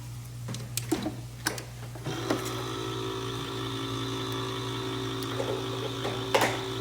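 Can opener working on a can of tomatoes in a home kitchen while making chili, a steady mechanical grinding whir with a few clicks and ticks, close and fairly quiet, no talking.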